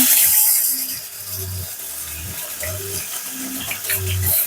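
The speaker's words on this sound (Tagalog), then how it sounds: "hugas muna tayo ng kamay" Running tap water splashes steadily over hands at a kitchen sink while cooking carbonara, a close, continuous wash with soft rhythmic rubbing and splashing bursts throughout.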